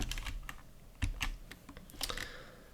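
Fingers type a short burst of keys on a computer keyboard, with quick irregular clicks and a few heavier key presses, close and fairly quiet, with no one talking.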